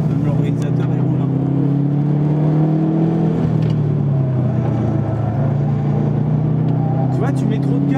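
A Subaru Impreza engine drones loudly from inside the car on a race circuit, its pitch rising and falling as the throttle is worked, with talk over the engine noise.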